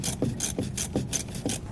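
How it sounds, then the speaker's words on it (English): Rapid rhythmic scraping and ratcheting while bolts are removed from an old RV black water tank valve on a 2011 Coachmen, about four to five repeated strokes, loud and close. "We can start by removing the bolts on our old one now."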